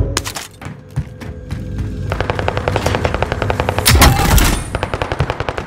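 Rapid bursts of automatic gunfire in a first-person shooter video game, loud repeated shots with heavy thumps, intensifying into a dense volley near the middle and continuing in rhythmic rattling fire.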